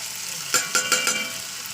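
Fish curry sautéing in a pan after salt and turmeric go in, a steady sizzle with four quick stirring scrapes in a row, close and alone.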